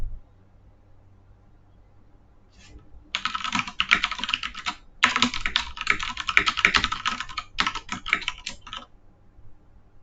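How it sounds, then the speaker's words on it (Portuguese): Code typed on a computer keyboard in a text editor such as Kate, heard as several bursts of rapid, close key clicks with brief pauses between them and no voices. "Em seguida, digitamos o código em editor de texto como Kate."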